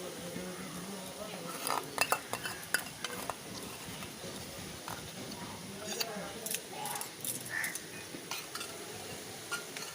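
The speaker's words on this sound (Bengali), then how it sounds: "এবার আচারটি ভালো করে মিশিয়ে নিতে হবে।" A spoon scrapes and clinks against a pan while mango pickle is stirred into eggplant, with soft frying beneath and a voice speaking over the irregular stirring.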